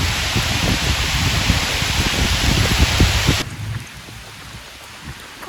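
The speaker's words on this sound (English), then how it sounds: "running in the rain during summer when it's hot" Summer rain pattering through a tree canopy over a runner, a steady broadband hiss with close crackling drops and footfall thumps that drops abruptly to a quieter wash partway through.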